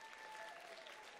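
Applause at a soul and R&B music awards gala, a brief, faint, even wash of clapping from a distant crowd with a steady tone running beneath it.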